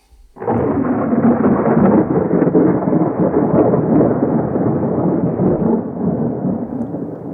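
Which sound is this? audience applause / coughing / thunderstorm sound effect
thunderstorm sound effect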